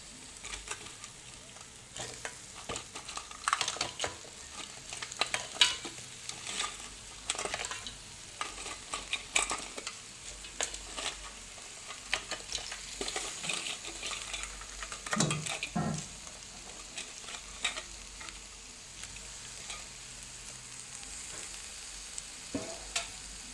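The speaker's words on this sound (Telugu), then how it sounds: "ఈ పీతను బాగా కలపాలి, మసాలా అంతా పట్టేలాగా" Crabs fry in masala in a pan, a lively sizzle and spatter with frequent scraping and stirring strokes against the pan, close and busy throughout.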